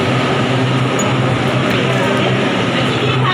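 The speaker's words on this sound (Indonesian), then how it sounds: "Keretanya udah datang ya teman-teman." A train pulling into a station on the Luodong–Yilan line in Taiwan makes a loud, steady rumbling roar with continuous rail and wheel noise for a few seconds, no voices.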